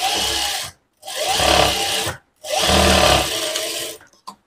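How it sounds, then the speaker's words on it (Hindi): A sewing machine stitching pintucks into a neck design, running in three steady loud bursts with short pauses between them, ending in a few light clicks. "इस तरीके से यहाँ पे सिलाई लगाते जाना है"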